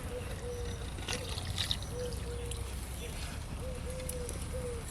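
Spice water pours into a clay pot of egg curry as a soft, steady trickle close by, continuous throughout under a faint background hum.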